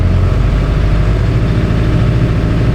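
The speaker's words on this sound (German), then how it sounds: "Natürlich ist jetzt kalt, der Motor ist kalt, wenn er ein bisschen wärmer wird, ist es schon ein bisschen ruhiger." Mercedes-Benz Unimog four-wheel-drive camper with a cold engine idling, a loud, steady low rumbling drone with constant throb, heard close and alone.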